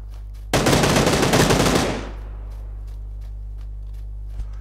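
A loud, close burst of rapid automatic gunfire in a shooter video game rattles for about a second and a half, then fades into a low hum, with one faint thud shortly after.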